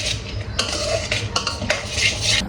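A metal spoon scrapes and clanks against a pan in several quick stirring strokes, mixing spiced corn, close and fairly loud.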